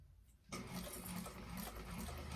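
A sewing machine stitching a bag starts up and runs with a steady, close mechanical whir and rapid needle rattle, fairly quiet, with no talking.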